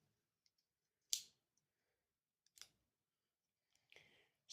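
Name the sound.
pocket knife scissors being opened and clicked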